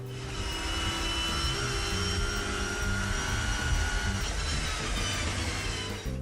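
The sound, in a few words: V6 Mondeo touring car onboard engine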